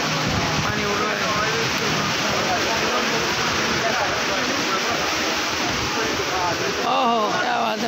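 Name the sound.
water fountain spraying at a mall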